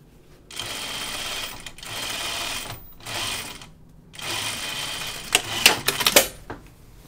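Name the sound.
sewing machine stitching a shirt sleeve cuff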